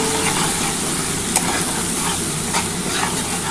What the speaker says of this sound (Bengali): এবার ভালো করে এই মশলাটা কষিয়ে নিতে হবে।